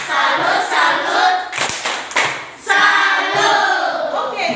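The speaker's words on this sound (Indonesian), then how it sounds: "tepuk salut dulu untuk yang sudah menjawab 2 pertanyaan tadi" A school class does a 'tepuk salut' clapping chant in the classroom. Loud group claps and thuds on desks come in bursts, and children's voices chant along in rhythm.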